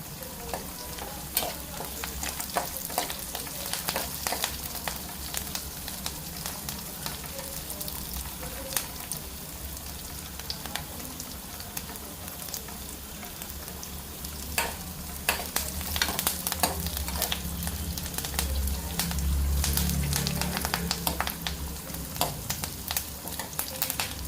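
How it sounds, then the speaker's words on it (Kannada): Dried red chilies fry for a tempering over a low flame, a continuous crackling sizzle punctuated by frequent stirring clicks and scrapes, building slightly louder toward the end. "ನೋಡಿ ನಾವು ಒಗ್ಗರಣೆ ಎಷ್ಟು ಲೋ ಫ್ಲೇಮಲ್ಲಿ ಮಾಡ್ತಾಯಿದ್ದೀವಿ, ಗಂಗಮ ವಾಸನೆ ಬರ್ತಾಯಿದೆ."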